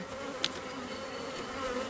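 Honey bees in a small five-frame nuc hive make a soft, continuous buzzing hum, close but quiet, with one brief sharp click near the start.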